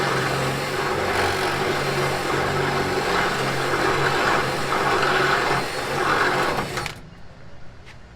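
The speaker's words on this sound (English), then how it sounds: "I'm just gonna drill this out now." A power drill whines steadily at high speed for several seconds while drilling out a rivet on a Ford Bronco II door, then cuts off abruptly, leaving quiet room noise.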